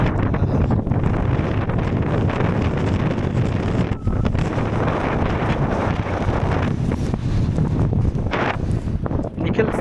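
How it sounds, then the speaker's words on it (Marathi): Strong wind and rain lash the exposed top of Rohida Fort. A roaring, buffeting gust rumbles continuously into the microphone for the whole stretch. Under it, a person's voice is partly buried. "वारं लय जोरात, पाऊस असा जोरात चटका बसलाय ना"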